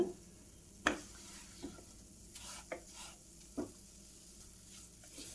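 Wheat rava dry-roasting in a pan for a laddu, a quiet scraping stir with a few sharp clicks of the spoon against the metal, no voices.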